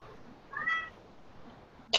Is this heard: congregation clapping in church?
no